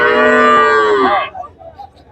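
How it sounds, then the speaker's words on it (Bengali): A native cow gives one loud, drawn-out moo close by at a livestock market, which stops partway through and leaves faint background noise. "এই পাশে একটি দেশি গরু আছে"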